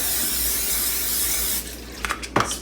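A steady hiss of cooking spray onto a pie plate runs for about a second and a half, then stops, followed by a few light clicks and taps.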